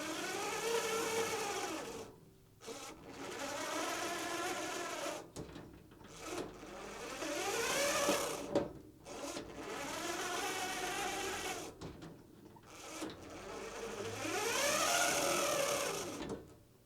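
A small electric motor and little planetary gearbox with a clutch in a toy Thomas tank engine whir in about four sustained runs, the pitch rising and falling within each, with brief pauses between runs.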